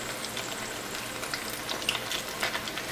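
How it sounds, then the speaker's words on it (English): Spring rolls filled with vegetables and cooked ground chicken deep fry in hot oil, giving a dense, steady sizzling crackle with scattered sharper pops close by. "When you put the spring roll in a hot oil, make sure they not touch each other"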